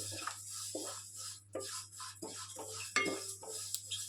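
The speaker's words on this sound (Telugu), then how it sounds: "ఇలా బాగా వేయించుకోవాలి." A utensil stirring ingredients as they dry-roast in a pan, with irregular scraping and clinking, soft and close, no talking.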